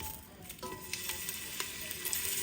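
Sliced onions sizzle in olive oil in a pan, a steady close frying hiss that continues throughout with small crackles and no talking.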